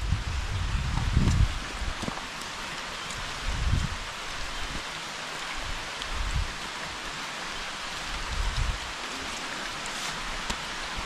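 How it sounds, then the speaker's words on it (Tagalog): Steady rain falls continuously, a dense hiss with occasional heavier low rumbles, no voices. "Ulan na naman dito sa amin."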